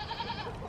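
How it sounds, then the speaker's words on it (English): Goats bleat softly at a farm beside a tiny house, a brief, quiet, steady murmur of livestock calls with no talking over it. "Look at all these goats."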